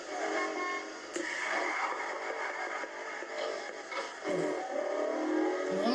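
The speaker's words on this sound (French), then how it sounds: "Wow, on peut klaxonner." In a street racing video game, a car horn honks over a continuous engine and road roar, with a couple of sustained horn blasts rising out of the mix.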